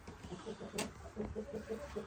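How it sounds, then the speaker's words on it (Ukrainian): Soft, rhythmic clucking from Buff Orpington chickens nearby, a series of short low calls over quiet farmyard background. "Називаються ці кури Орпінтон паловий"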